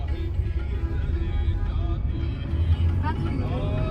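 Congested traffic on the Mumbai–Delhi Expressway, with a truck stopped in the lane, gives a continuous low rumble of engines and passing vehicles while a person talks over it.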